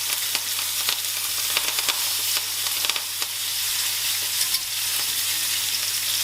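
Garlic and lemon thyme sizzle and crackle in a hot pan with duck, a steady frying hiss broken by scraping stirs, close and alone.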